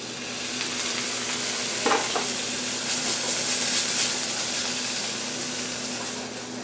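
Fennel, leeks and shallots sizzle in a pan with a splash of white wine, a steady hiss with a few stirring scrapes, moderately close and alone.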